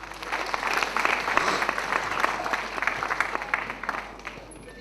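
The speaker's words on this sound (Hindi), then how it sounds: "Can I request all of you to please put your hand together for Mr. Dinesh Kumar?" Audience applause for a poet, Mr. Dinesh Kumar, at an International Customs Day event: dense, steady clapping from a sizable crowd, fairly loud and continuous throughout, easing slightly toward the end.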